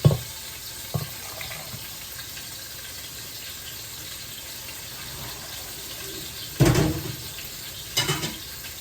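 Cooking liquid goes into a pot while shredded pork with green salsa is being made: a mostly quiet stretch broken by two short splashy pouring bursts near the end, close by, with no voices.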